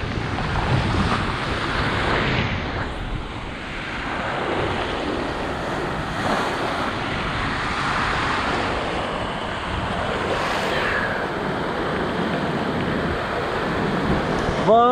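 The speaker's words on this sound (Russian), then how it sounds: "Друзья, накат волн прекрасен." Storm waves roll and crash onto a pebble beach in Crimea, a continuous roar of surf with heavy wind buffeting the microphone, swelling and easing in slow surges.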